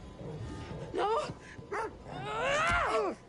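A dog in a horror video game gives several short yelping barks and whines, with a longer rising and falling howl-like whimper near the end, loud and close over low game ambience.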